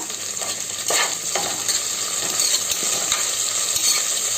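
Mint, curry leaves and coriander frying with onion and green chillies in a pan, a loud close sizzle with repeated rhythmic stirring scrapes and clinks throughout.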